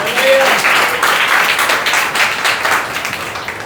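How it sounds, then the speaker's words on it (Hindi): A church congregation breaks into loud, dense applause after a sermon prompt, sustained clapping throughout with a brief voice at the very start. "ताली बजाइए जोरदार।"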